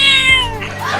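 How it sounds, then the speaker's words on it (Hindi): A cartoon cat gives one loud, close, drawn-out meow that slides downward in pitch, with a snarling edge, within about a second. "ये बिल्ली अपनी दांतें दिखा रही है हमें काटने के लिए"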